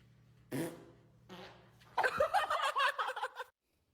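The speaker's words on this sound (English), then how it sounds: "Guess my fart." A fart: two short puffs, then a longer rippling, sputtering one lasting about a second and a half, close and fairly loud against silence.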